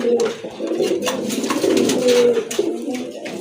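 A pigeon, one of a group of fancy breeds, coos in repeated low throaty phrases close by, with someone talking over parts of it.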